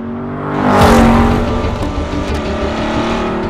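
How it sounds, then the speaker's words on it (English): A Chevrolet Corvette C8 fitted with a Borla sport exhaust revs hard on a racetrack, the engine note swelling loudly then holding a sustained, close, throaty drone. "you start tapping through the gears and bringing your revs higher and higher, it's kind of like a symphony."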